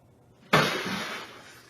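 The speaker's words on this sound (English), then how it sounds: "it was a bear smashing through the canopy of a Suzuki, trying to get at 6 cases of pop inside" Glass bursting as a bear smashes through the canopy of a Suzuki at night, one sudden loud crash followed by a bright, fading spray of breaking fragments.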